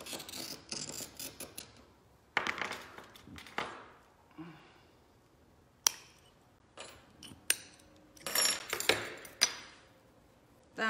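Glass being cut and worked on a bench, for a fused glass skyline piece: a series of sharp scraping and snipping bursts with crisp clicks and taps, close and fairly loud, separated by short quiet gaps.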